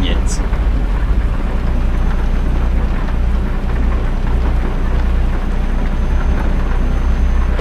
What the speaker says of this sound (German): Mann, ich hasse das im Regen zu fahren.